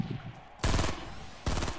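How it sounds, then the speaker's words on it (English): Gunfire in the video game Fortnite: two loud, close bursts of rapid shots, the first longer than the second, with quieter sound between them. "They're shooting at us, bro."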